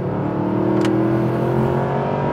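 Porsche Cayman GT4 RS sports car engine revving hard after a downshift on a road, a loud steady roar close up with one brief sharp crackle.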